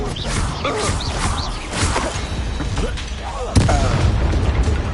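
Booming spell blasts and whooshing bursts from the fantasy video game Hogwarts Legacy, the Confringo explosion spell among them, repeating steadily over a busy game mix with a sharper impact near the end, while a voice calls out spell names.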